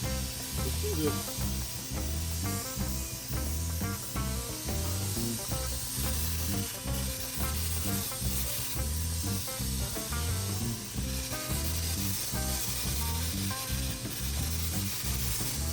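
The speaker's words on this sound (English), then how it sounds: "When I first started spraying the paint," A Phalanx HVLP 2.0 paint sprayer with an oversized sprayer head sprays paint, giving a loud, steady, close hiss broken by rapid, regular pulsing that runs throughout with no talking.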